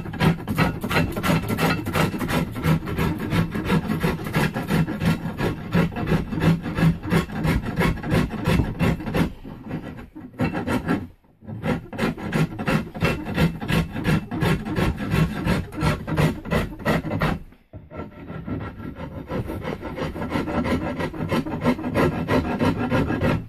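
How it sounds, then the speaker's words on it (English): A rasp files down the belly of a yew bowstave in close, rhythmic back-and-forth strokes, coarse rasping scrapes repeating steadily with two short pauses, no talking. "that's why the rasp does such a great job"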